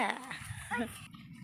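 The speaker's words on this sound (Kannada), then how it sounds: "ಒಂಜಿ ಡಾಗ್ ಉಂಡು ಡಾಗ್ ನೀರು ಕಲೆಂಕದುಂಡು" A dog near a river makes brief yips and whimpers up close, with some murmuring voices around it.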